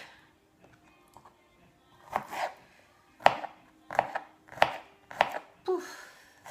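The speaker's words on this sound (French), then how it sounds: "Les gousses d'ail, je les coupe juste en deux et j'émince rapidement." Garlic cloves halved and minced with a knife on a board: a quiet start, then a run of five or six sharp, evenly spaced chopping knocks, close and fairly loud.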